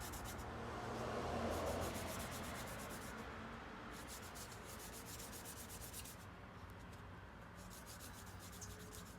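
Serpentine stone rubbed on fine grit abrasive paper for shaping, giving a steady, soft scratchy grinding that swells slightly early on and then continues evenly, close and fairly quiet, with no talking.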